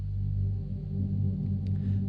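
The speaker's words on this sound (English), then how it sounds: "it's just a very simple sine wave, a little bit of a pitch envelope," A simple sine-wave synthesizer pad from Massive, low-passed and given a slight pitch envelope, holds a soft, deep, steady tone for about two seconds with nothing else playing.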